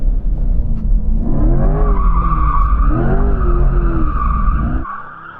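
Car tires skidding and squealing during mass drifting, a sustained loud screech with engine roar underneath, holding steady for nearly five seconds before fading away.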